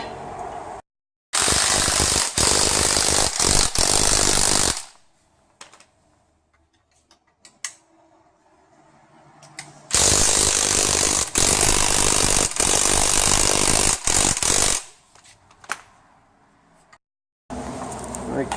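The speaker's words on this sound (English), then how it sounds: "we're going to put the spring compressor on the spring, either side" A spring compressor is run onto a Ford MacPherson front strut coil spring with two long, loud bursts of rapid mechanical rattling, each lasting a few seconds. Quieter gaps of faint clinks separate them.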